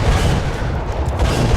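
A rumbling explosion roar from a bomb in the naval battle game War Thunder, a continuous deep, loud boom with a heavy low-end rumble that holds steady without a clear start or end.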